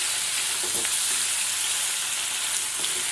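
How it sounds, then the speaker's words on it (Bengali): Chicken pieces stir-fry with garlic paste in oil, producing a continuous hissing sizzle up close, broken now and then by soft scraping stirs, with no voices over it. "রসুন বাটা দিয়ে মাংসটা আরও ভালো করে নাড়তে থাকবো।"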